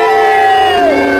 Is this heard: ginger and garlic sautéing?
no